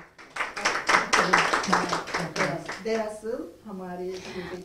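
Audience applause for a recipient at a women's conference award presentation, a brief burst of clapping that tapers off as a voice begins speaking over the fading claps.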